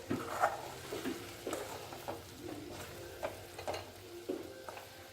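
Brain pepper fry is gently stirred in a pan, with soft spatula scrapes recurring about every half second over a faint, steady sizzle, close and fairly quiet.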